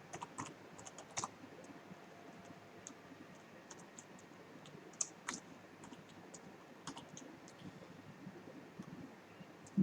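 Python code being typed on a computer keyboard: quiet, irregular key clicks and taps with occasional sharper strokes, close up over a faint background hiss, no talking.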